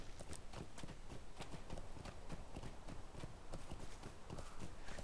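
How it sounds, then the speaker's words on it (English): Horses clip-clopping in the Lord of the Rings Online game: a steady, dense run of hoof clops continuing throughout, fairly even in rhythm and moderately loud, with no talk over it. "I don't want to scare off the horses."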